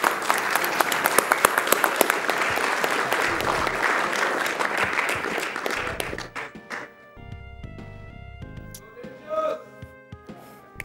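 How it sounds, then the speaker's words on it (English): Audience at Awesome Games Done Quick 2015 applauding a Shinobi III speedrun, loud, dense, sustained clapping for about six seconds before the applause dies away into scattered claps and quieter room noise. "Have another round of applause"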